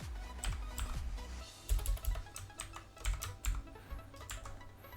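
Fingers type on a computer keyboard while filling in an online form, a close, uneven patter of key clicks with brief pauses between bursts, quiet and without any talking.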